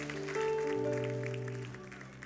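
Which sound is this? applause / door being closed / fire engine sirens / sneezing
applause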